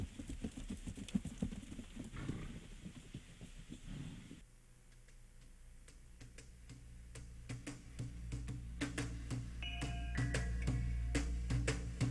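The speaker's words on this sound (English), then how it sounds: "appreciate the elegant gait of its famous paso horse" Peruvian Paso horse hooves clip-clopping on a hard surface in Peru, a quick busy patter at first, then sparser clops over a low rumble and faint background sounds.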